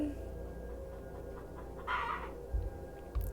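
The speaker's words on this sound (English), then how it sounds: "y'all can hear my chickens" Backyard chickens cluck faintly in the distance, a few soft bursts rising over a steady low background hum, with some dull thumps near the end.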